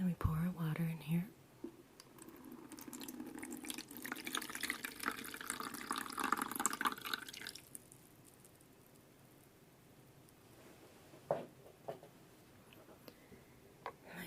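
Water pours steadily into an essential oil diffuser for about six seconds under soft whispering, then fades to a quiet hush broken by a few light taps.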